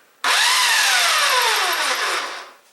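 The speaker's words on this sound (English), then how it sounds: "a belt sander." A belt sander with a looping sandpaper belt starts up abruptly and runs with a loud, close whine that sags slightly in pitch before winding down near the end.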